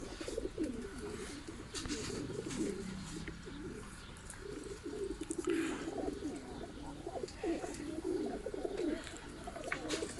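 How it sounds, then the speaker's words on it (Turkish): Pigeons coo in low, repeated rolling calls that carry on steadily throughout, close by, with a few softer bird sounds mixed in. "Bakın oradan bir tane kuş geliyor."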